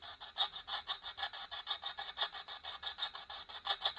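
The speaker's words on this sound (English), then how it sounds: "It's just going straight through the channel, making constant static." Faint radio static pulses in quick rhythmic bursts as the dial sweeps, a steady hiss surging about four times a second, no voices.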